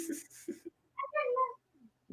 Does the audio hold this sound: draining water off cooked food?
no